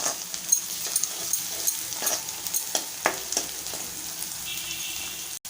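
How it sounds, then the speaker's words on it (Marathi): Chopped onion and green chilli pieces sauté in a pan for Malvani-style methi bhaji, giving a continuous soft sizzle with light stirring scrapes scattered throughout. "ते टाकूया, परतूया। कांदा आपण थोडासा नरम करून घेऊया।"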